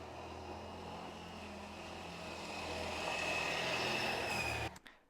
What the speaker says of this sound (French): il y avait une moto en fait qui passait juste devant la terrasse